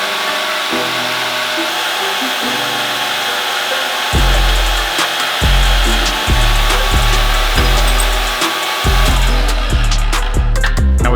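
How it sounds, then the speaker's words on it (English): A power tool cuts a small strip of sheet metal for a Subaru 2.5 RS bracket, a loud steady whine broken by repeated harsh bursts of cutting, close and alone. "So now I'm just gonna cut out that little strip of metal there"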